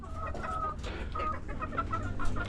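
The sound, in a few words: chickens clucking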